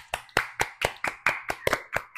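A live audience at a women's entrepreneurship community event in Houston claps together in a steady rhythm, about ten sharp, fairly close handclaps in a row.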